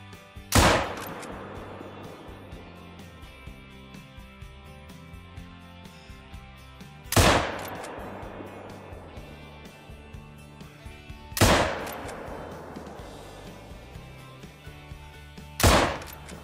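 Four single 30-30 rifle shots ring out in a video game, spaced several seconds apart, each a sharp loud crack with a short echoing decay, over quiet ambient background.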